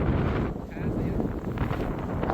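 Wind gusting across a microphone outdoors near a memorial tower in Sibiu, Romania, a continuous rumbling buffet that swells and dips slightly throughout.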